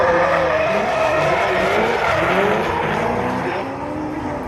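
Drift cars screaming around the Bordeaux Mérignac circuit during a French drift championship, loud engines over sustained tire squeal and skidding, steady and close.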